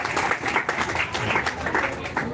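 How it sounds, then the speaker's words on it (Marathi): Audience applause rings out at a community event in Nashik where school supplies are handed out to domestic workers, a dense, steady clapping that runs without a break for a couple of seconds. "टाळ्या वाजवायच्या जोरदार"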